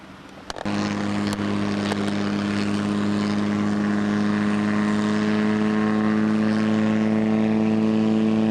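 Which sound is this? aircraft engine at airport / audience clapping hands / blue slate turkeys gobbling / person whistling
aircraft engine at airport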